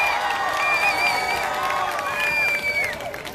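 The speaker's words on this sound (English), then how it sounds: "I can never tell if they're cheering me or trying to drown me out" Marchers at the Toronto March for Life cheer and whoop in a loud, sustained outdoor roar with scattered clapping and shrill shouts, the crowd noise easing slightly toward the end.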